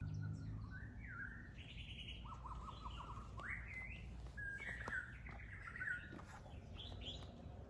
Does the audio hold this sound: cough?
no